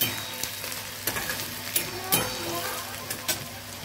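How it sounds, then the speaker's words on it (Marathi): Chopped onion fries in oil with cumin and mustard seeds over low heat, a steady close sizzle broken by several sharp scraping stirs of a spoon. "कांदा चांगला मंद याच्यावर परतू द्यायचा, छान लालसर कलर येईल तोपर्यंत"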